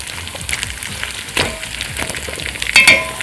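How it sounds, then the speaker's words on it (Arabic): Lamb ribs fry in butter with mastic in a pot, giving a steady, close crackling sizzle with a few sharper spits and pops and no talking. "انا دايما يعني بحب احمر الريش قبل ما اعمل الشوربة. المستكة والزبدة"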